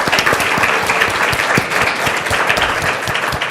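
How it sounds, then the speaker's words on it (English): A live audience at a national security conference podcast recording claps for two guests from the Washington Post, producing loud, full applause with sharp individual claps standing out in a continuous wash for a few seconds. "So if you can join me in a round of applause for Karen"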